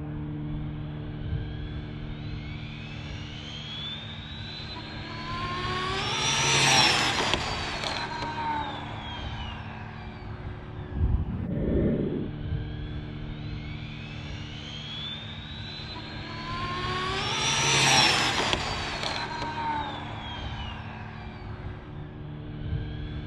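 A twin-motor RC car makes two high-speed passes, each a rising then falling electric whine that sweeps past and fades, over steady background noise.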